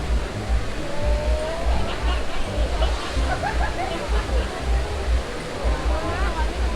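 Wang Nen waterfall in Sung Noen, Korat, pours with a steady broadband rush of falling water, continuous and close, while people chatter in the background.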